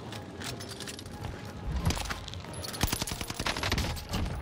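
Rapid machine pistol gunfire in the Warzone video game, a busy burst of automatic shots with clustered cracks building toward the end amid game noise.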